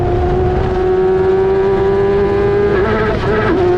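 An F1000 race car engine at Oulton Park screams at high revs close up, a loud sustained tone that wavers and dips near the end as a gear change is botched.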